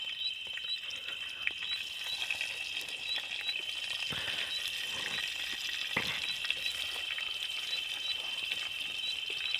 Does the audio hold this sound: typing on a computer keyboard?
no